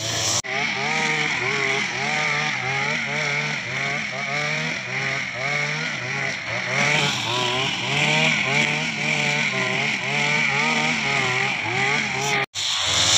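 A Kisan Kraft petrol grass cutting machine running in a village field, a loud buzzing two-stroke engine droning steadily with rising and falling revs, close by.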